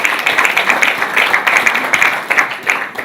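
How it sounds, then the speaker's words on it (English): A crowd applauding a guest at an evening event, steady loud clapping from many hands sustained throughout without any voices over it. "Please, a round of applause for him."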